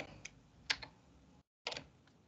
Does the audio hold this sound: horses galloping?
no